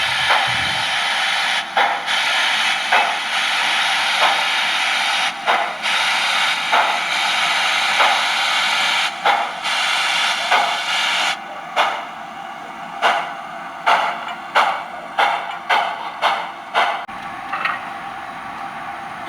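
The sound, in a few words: model steam locomotive sound decoder, cylinder blowdown and starting forward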